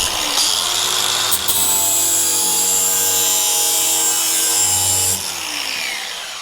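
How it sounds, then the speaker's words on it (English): An angle grinder smooths the rough jigsaw-cut edge of timber trim for a Galant hardtop, a loud continuous grinding whine with a steady rasp that holds for about five seconds before easing off slightly. "the angle grinder tidies it up real nice"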